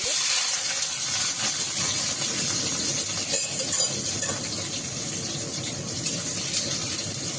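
Steady sizzling hiss of food being stirred and frying in oil, an even, continuous crackle with no talking over it.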